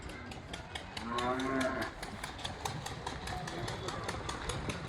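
A cow moos once in a cattle shed, a drawn-out low call close by lasting about a second, set against a steady background hum with a faint engine idling.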